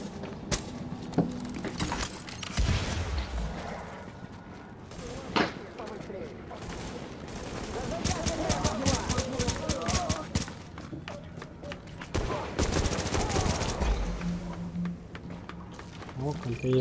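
Gunfire in the shooter game Tom Clancy's The Division, bursts of shots and fusillades scattered through a busy mix, with players talking over much of it.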